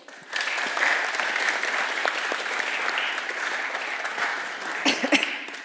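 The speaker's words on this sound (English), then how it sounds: "can we get a round of applause for the girls and get them on stage?" An audience at an Adidas influencer panel event breaks into sustained applause for the guests, a steady, full wash of clapping that holds for several seconds, with a few louder claps near the end.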